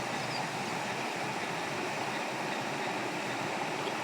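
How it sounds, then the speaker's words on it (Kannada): Rainwater rushes down a stream beside a hillside temple, making a continuous, even, hissing roar that stays close and fairly loud. No one speaks. "ಮಳೆ ನೀರು ಏನು ಜರಿ ಹರಿಯಾಕತ್ತೈತ್ಲ ಅದರ ಸಪ್ಪಳ"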